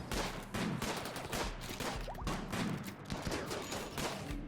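Gunfire in a RimWorld battle: steady, dense bursts of rapid shots, loud and close, forming a continuous fusillade with no talk.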